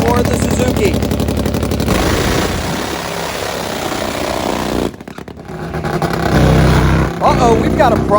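Top fuel Harley and Suzuki drag racing motorcycles roar at a Sacramento drag strip, a loud sustained engine blare that dips briefly then surges again, with a crowd and announcer speaking underneath.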